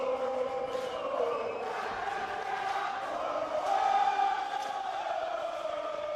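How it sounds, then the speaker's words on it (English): At a Pan-African championship boxing event at a showgrounds, a crowd chants in a sustained, rising and falling mass of voices that fills the space, steady and fairly loud throughout. "The crowd starting to chant as well."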